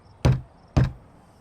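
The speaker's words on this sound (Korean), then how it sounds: "그는 산소통의 밸브를 열며 노크합니다." Two firm knocks on a trailer door in a tense movie scene, evenly spaced about half a second apart, close and loud against near silence.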